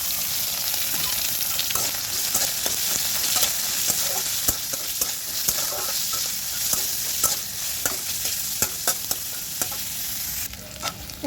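Onions fry in oil in a pan with a constant loud sizzle. Repeated scraping clicks of a utensil stir them at an irregular rhythm, and no one speaks.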